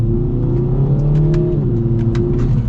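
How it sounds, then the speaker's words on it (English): 2024 Kia Forte GT accelerating from inside the cabin, a loud steady engine drone rising in pitch, with a brief dip as it shifts, then climbing again. "So we're gonna get a little acceleration here."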